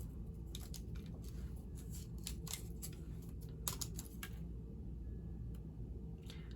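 Scissors trim paper during card making, a series of quiet, crisp snips in irregular clusters close by, with softer pauses between cuts and a low background hum.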